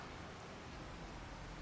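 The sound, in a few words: rain in the video game Farming Simulator 25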